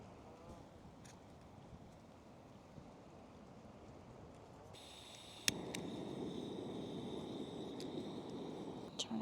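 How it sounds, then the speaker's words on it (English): Wind gusting across a river beach on the Bigbee River Trail during a February hike, a steady broad rush that grows louder and rougher halfway through and keeps blowing hard to the end. "The wind is picking up."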